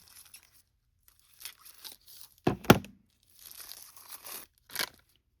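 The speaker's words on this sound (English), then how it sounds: "All right, let's just cut this open." A package being cut open: a few soft rustles, then one short, sharper tearing rip, followed by more crinkling plastic or paper handling, close and fairly quiet.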